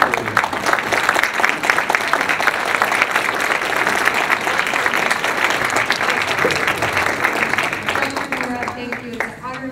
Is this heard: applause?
yes